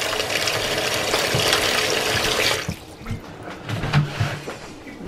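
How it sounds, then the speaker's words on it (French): Cold water gushes steadily into a container for washing catfish, a loud rushing pour that cuts off partway, followed by quieter sloshing and clinks. "on va mettre l'eau froide avec un peu de vinaigre."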